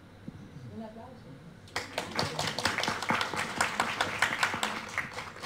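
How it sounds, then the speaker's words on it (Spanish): A conference audience bursts into applause after a quiet moment with faint talk, and the clapping stays dense and steady to the end. "Un aplauso."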